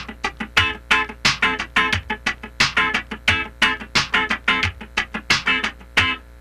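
Funk rhythm guitar part strummed with continuous muted scratching throughout, a steady busy rhythm of sharp percussive chucks and chords, loud and close, with no talk.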